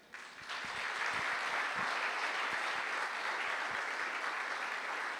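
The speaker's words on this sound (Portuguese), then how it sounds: "uma salva de palmas para Isabela e para a Lívia." Church congregation at a Saturday service breaks into applause that swells quickly after a brief quiet start, then holds as a steady, full round of clapping from many people filling the room.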